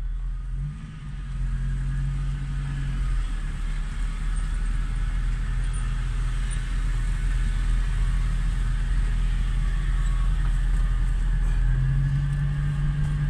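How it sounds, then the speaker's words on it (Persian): Heavy trucks and tankers at a truck garage during a drivers' strike, engines idling and revving steadily nearby, a continuous low diesel rumble with rising and falling tones, no talk. "همه جور ماشینی اینجا میاد، تانک، کپی، کمپرسی."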